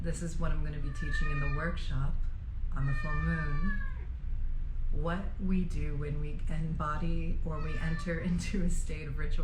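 A pet cat meows a few times at moderate volume beneath a woman's steady, calm talking in an indoor room.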